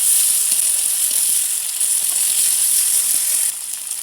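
Onion, garlic and ginger paste frying in oil in a pan for a vegetable dal, a steady loud sizzle and hiss close by, unbroken throughout with no voices.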